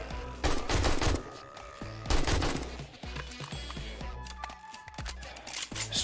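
Rapid gunfire from the video game 7 Days To Die crackles in two loud bursts, followed by scattered single shots and mechanical clicks.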